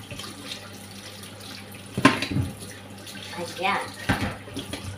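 Potatoes fresh from a garden being rinsed under a running kitchen tap, with water splashing and gushing in uneven surges while someone speaks briefly over it.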